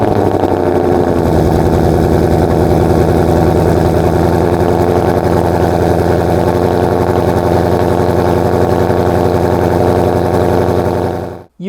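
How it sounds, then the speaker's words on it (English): A loud, rumbling 760 hp Ford Mustang GT500 V8 idles steadily after a cold start, deep exhaust throbbing up close, then cuts off abruptly at the end. "right now, I promise you, this thing is loud. The cold start is incredible."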